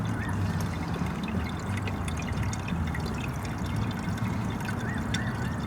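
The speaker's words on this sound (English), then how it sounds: "These are the Maruka Geothermal springs, lovely warm water." Warm water flowing at the Maruka geothermal springs, a steady close splashing and trickling that stays even throughout, with no voices.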